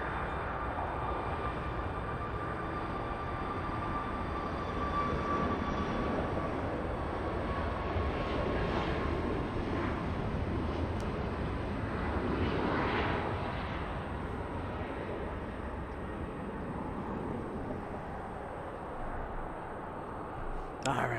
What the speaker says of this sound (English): Let's go over to WestJet now. Beginning its takeoff roll.